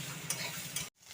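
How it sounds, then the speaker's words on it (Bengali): Potatoes fry with onion in a pan on a gas stove at home, a close, continuous sizzle with a couple of sharp stirring scrapes before cutting off abruptly near the end. "এই দেখো আলু ভাজছে"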